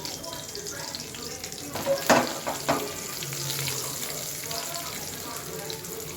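Cumin, urad dal and dried red chillies fry in hot oil for a tempering, giving a soft steady sizzle with a few sharp spattering crackles in the middle.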